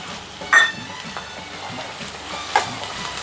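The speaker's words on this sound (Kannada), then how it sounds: "ಈರುಳ್ಳಿ ಫ್ರೈ ಆದಮೇಲೆ ಇದಕ್ಕೆ ಟೊಮೊಟೊ ಸೇರಿಸ್ತಾ ಇದ್ದೀನಿ." Tomato tipped into a pan of frying onion, giving a steady low sizzle with a couple of sharp clatters as it lands and is stirred.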